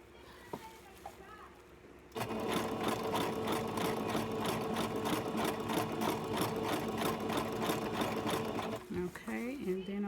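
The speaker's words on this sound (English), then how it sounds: "Okay, and then I'm gonna go ahead and back stitch." A sewing machine stitches embroidery on a pink pony shirt in one loud, fast, evenly pulsing run of several seconds, set between quieter moments with brief talking.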